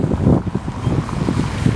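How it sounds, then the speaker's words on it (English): Steady outdoor wind buffeting the microphone while fly fishing in Florida, a low rumbling roar with gusty swells throughout, no voices. "I don't know if you can hear the wind in the background there"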